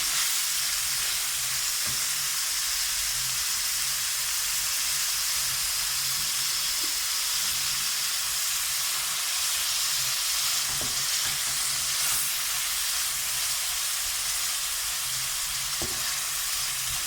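Beef keema fries and is stirred in a karahi, a loud continuous sizzle with occasional scrapes of a spoon against the pan.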